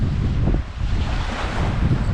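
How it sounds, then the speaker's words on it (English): Strong wind blows at Glacier National Park, a loud, close roar of gusts buffeting the microphone with continuous rumbling noise and a brief dip midway, with no talking. "It sure is windy."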